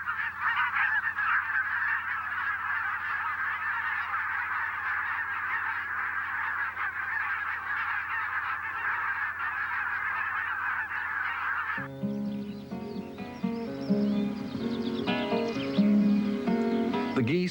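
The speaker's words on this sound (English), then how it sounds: "The geese leave Scotland in early April" Geese in Scotland honk: a steady, even flock noise gives way to loud, close, overlapping honking calls in the final seconds.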